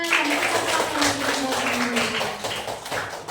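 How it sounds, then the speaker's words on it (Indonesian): Students clap together in a classroom, quick uneven claps close by, with voices mixed in underneath. "Oke, beri tepuk tangan untuk kita semua."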